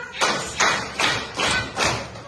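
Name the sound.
children clapping hands in class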